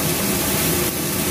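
Water being poured into sizzling spice paste in a pan for a Bengali stuffed pointed gourd and prawn dolma, producing a steady, loud hissing rush that lasts throughout with no pause.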